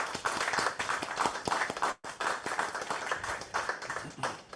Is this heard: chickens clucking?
no